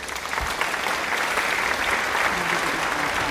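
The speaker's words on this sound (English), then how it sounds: "Let's give a round of applause for amazing Gerald!" Audience applause for amazing Gerald the giraffe during a read-aloud of a children's story, a steady clapping crowd sustained at even loudness for a few seconds with no talking.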